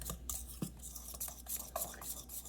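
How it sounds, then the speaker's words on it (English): Dry ingredients for jalapeño pepper corn nuggets mixed in a bowl, faint soft scraping and rubbing strokes in an irregular rhythm, close and quiet. "So mix your dry ingredients together."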